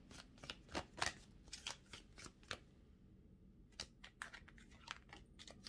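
Tarot du Soleil tarot cards shuffled by hand, a quiet close run of riffling snaps and soft slaps in irregular bursts, with a short lull midway before the shuffling resumes.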